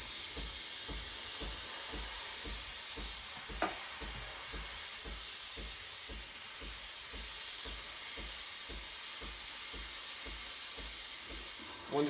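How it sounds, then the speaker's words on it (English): Steam wand of a Breville Barista Express BES860 espresso machine builds pressure, giving a steady, loud broadband hiss that runs unbroken with a faint pulsing rumble beneath. "It will take about 10-15 seconds to start steaming."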